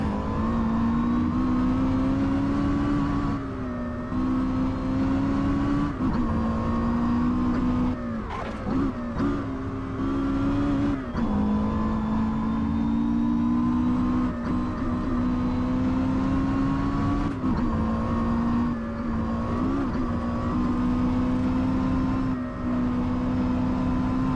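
A Porsche Carrera GT engine drones loudly and steadily, holding a high whining pitch with small rises and dips as it revs continuously through a long run.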